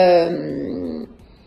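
A cat lets out a single drawn-out, wailing meow at close range, loud at first and tapering off over about a second, with no talk over it.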